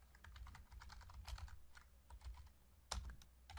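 Fast, steady typing on a computer keyboard while writing a GOTO statement in code, the light key taps close and continuous throughout with no talking.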